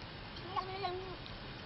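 A cat gives a short, faint meow in a quiet room, a single brief call over low background noise.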